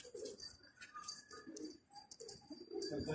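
Pigeons coo softly and repeatedly, with a faint bird chirp in the background; no one speaks.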